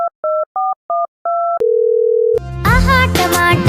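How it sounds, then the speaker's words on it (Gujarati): Phone call tones: five short beeping pulses, then a steady held tone, cut off by a burst of loud, music-like sound near the end. "પદિયાને ફોન કરું યાર."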